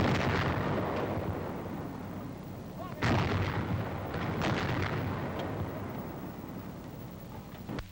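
A World War II-era 90mm antiaircraft gun battery opens fire, with a sharp heavy blast near the three-second mark. Rumbling, noisy din runs before and after it, with further booming reports.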